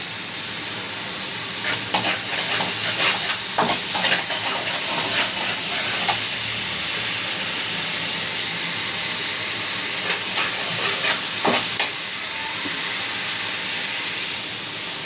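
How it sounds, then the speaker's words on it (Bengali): Spice paste sizzles and fries in a pan with repeated scraping stir strokes clustered in bursts, a steady close hiss running underneath throughout. "মশলাটা কষানো হয়ে গেছে, এখন জল দিয়ে দিব।"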